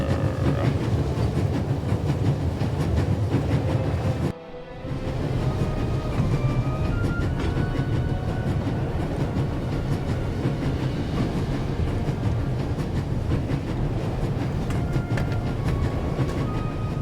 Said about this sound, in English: There's nothing quite like traveling on a train.